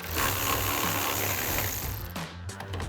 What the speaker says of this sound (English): Grab a 10mm socket and remove it